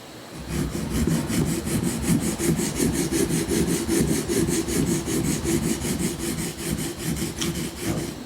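A steel chisel clamped in a honing guide rubs back and forth on a sharpening stone under strong pressure, a steady rhythmic scraping with regular strokes, close and fairly loud throughout.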